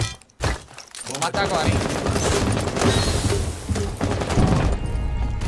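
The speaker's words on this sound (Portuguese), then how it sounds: "Calma aí, vou jogar mais uma granada aqui." Grenade thrown and detonating in Rainbow Six Siege, a dense loud burst of blasts and gunfire-like crashes sustained after a brief lull, with a player talking over the noise.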